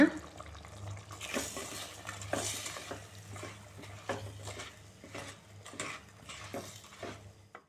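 Irregular scraping and clinking of a utensil stirring ingredients with sugar in a pot, with soft bubbling underneath, close by.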